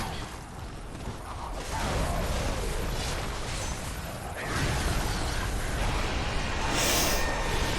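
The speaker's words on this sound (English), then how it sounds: "Oh, backdashed into the explosion." An explosion in a video game, a loud broad blast of game effects with rumbling noise sustained across the stretch and swelling again midway, no talk over it.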